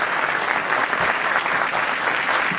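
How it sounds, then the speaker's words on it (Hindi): Steady, dense applause from a theatre audience after a Hindi stage play, loud and continuous throughout with no gaps. "मैं चाहता हूं एक बार जोरदार तालियां फिर से हो जाए कलाकारों के लिए।"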